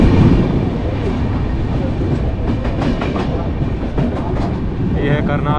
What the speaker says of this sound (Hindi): अब हमारी ट्रेन करनाल पहुंचने वाली है